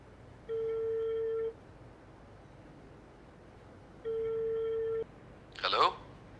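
A telephone rings unanswered in a Pakistani drama: two long electronic ring tones about three seconds apart, fairly clear and close, followed by a brief burst of voice at the end.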